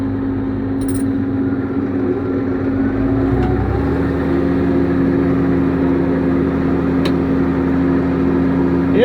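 Agco Allis 9435 tractor engine running steadily with the PTO engaged, a continuous loud low drone with a constant tonal hum and a couple of brief clicks, with no talking.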